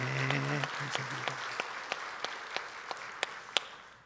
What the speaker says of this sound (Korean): 우리 성령님께 영광의 박수를 올려드리겠습니다.